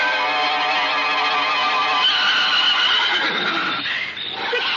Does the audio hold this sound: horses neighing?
yes